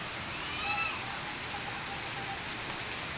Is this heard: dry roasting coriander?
no